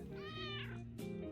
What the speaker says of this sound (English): lets out a big meow for attention